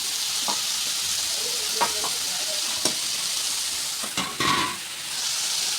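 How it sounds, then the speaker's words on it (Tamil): Chopped beans, carrot and capsicum sizzle steadily in a hot pan for pasta, with a few sharp clinks and scrapes of stirring over a constant frying hiss. "அரிஞ்சு வச்சுருந்த காய்கறி எல்லாத்தையும் ஆட் பண்ணிக்கலாம். பீன்ஸ், அடுத்து கேரட், அடுத்து கேப்சிகம்,"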